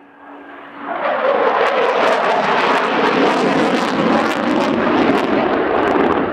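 An RAF Typhoon fast jet at an air show performs display manoeuvres, its roar swelling in within the first second to a loud, sustained broadband rush that holds steady throughout with no talk over it.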